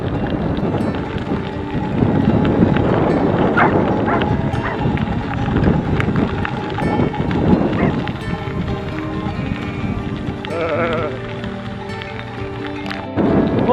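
Steady, heavy headwind buffeting the microphone while riding downhill on gravel at 14 km/h, a continuous roar with faint rhythmic thuds underneath.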